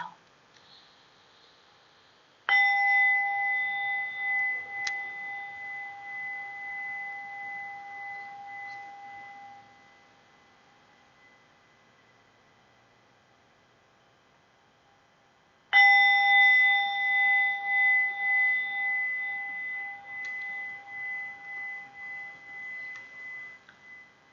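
A bell is struck twice, about thirteen seconds apart, each strike ringing out with a clear tone that slowly decays with a gentle pulsing shimmer, in a quiet room.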